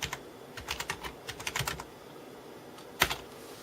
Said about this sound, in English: We're going to type in list disk.